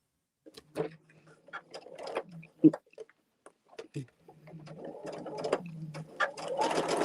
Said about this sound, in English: I'm just sewing my seam.